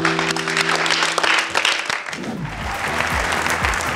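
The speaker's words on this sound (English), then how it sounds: "Please clap for them." Studio audience at the Cowbellpedia 2023 TV quiz show applauding contestants, a steady burst of clapping through the first half that thins as low music-like tones and background sounds take over.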